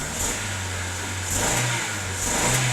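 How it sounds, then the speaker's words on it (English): A Ford Focus LX estate car engine runs steadily with a low mid-pitched hum, rising slightly in two brief surges like light revs, close by and without speech. "Engine sounds perfect."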